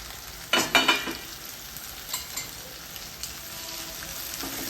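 Chopped okra tipped into a pan with tomato for a Gujarati okra and onion dish, a sudden burst of sizzling and clattering at first, then a few lighter stirring scrapes over a steady low hiss.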